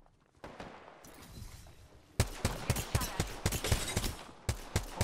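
Gunfire in the Apex Legends video game: scattered shots at first, then rapid bursts of sharp, loud reports packed closely together in the second half, with no voices.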